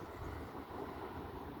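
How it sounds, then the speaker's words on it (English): An SAS airliner from Stockholm at Alicante Airport produces a faint, steady jet engine rumble heard from a distance, even in level throughout, with no voices. "What's that plane?"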